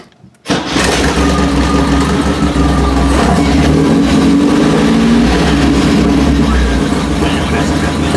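Car engine fitted with Autolite double platinum spark plugs and a big tower cam cranks briefly, then catches and settles into a loud, steady, close idle with a lumpy rumble.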